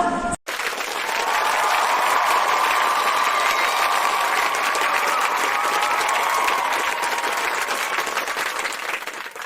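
Loud, sustained applause from a large crowd at a business gathering in India, a dense even roar of clapping that holds steady for about nine seconds after a brief cut at the start.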